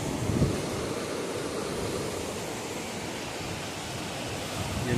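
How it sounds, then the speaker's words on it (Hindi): The Kali River flows steadily at the India–Nepal border near a checkpoint and market, a constant broadband rushing roar of water with no pauses and no voices. "ये काली नदी"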